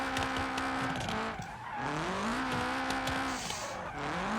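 Engine revving and sustained tire squeal as a car drifts around a drift track in the BeamNG driving game, loud and continuous with pitch shifting as it slides through turns.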